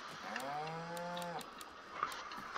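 Cattle moo in the farming video game Farming Simulator 2022, one long, clear, drawn-out low call with a rising start and steady tone, heard alone over faint ambient game background.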